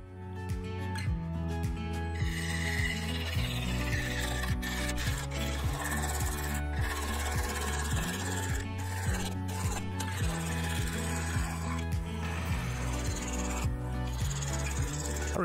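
A segmented wooden bowl with a patterned rim being hollowed on a wood lathe, a continuous close scraping and rasping of the tool against the spinning wood over the steady low drone of the motor.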